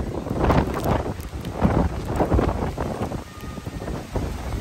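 Strong wind gusts buffet the microphone in loud rumbling bursts at Manila Bay's Dolomite Beach, with rain hissing steadily underneath.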